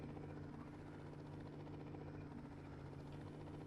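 A turbine helicopter drones in a continuous, dense rotor thrum with a steady low hum, evenly sustained and unbroken, heard alone without talk.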